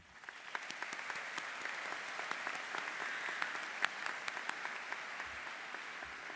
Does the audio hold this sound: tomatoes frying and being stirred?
no